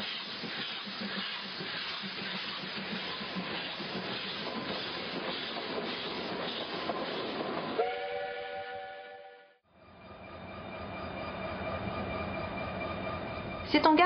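Big General Motors diesel locomotives on a Balkan railway rumble and hiss in a steady drone; a sustained horn-like tone enters partway, then after a brief dip the engine noise returns, with a voice narrating over it.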